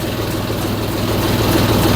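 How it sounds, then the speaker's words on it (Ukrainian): A small tractor's engine runs on a freezing winter day after a cold start, a loud, steady low rumble at idle that fills the whole stretch with no talk. "Але тракторець завівся чудово."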